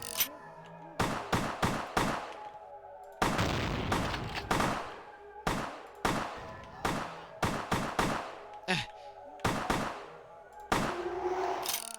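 Repeated gunshots from the video game Vampire the Masquerade Bloodlines ring out in short bursts and single cracks, sharp and loud, scattered across the stretch with brief gaps of game ambience between.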